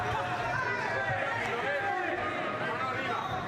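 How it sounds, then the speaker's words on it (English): A crowd at a Thursday-night boxing event in Spain fills the hall with a steady indoor murmur of chatter and babble, a dense unbroken hubbub heard at a distance throughout. "it's a good crowd in tonight on a Thursday night"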